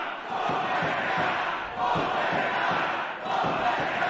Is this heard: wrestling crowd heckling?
yes